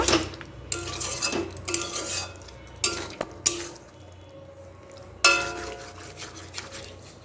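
A spoon stirs ground cashew and poppy seed paste for chicken rezala in a metal pan, giving irregular scraping clinks and knocks with quiet gaps between them, close and fairly loud.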